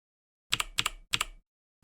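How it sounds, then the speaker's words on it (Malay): Keys are pressed on a computer keyboard in three quick clustered bursts of sharp clicks separated by silence, then a fourth burst starts at the end, close and crisp with no speech. "Biasa orang akan type phone laju, tapi type keyboard slow."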